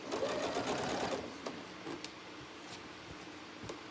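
A sewing machine stitches down the folded-back edging of a trapunto cushion, a quiet close-up motor hum in a short steady burst that eases off into faint ticking.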